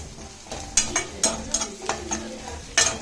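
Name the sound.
stirring onion masala with chilli powder in a pan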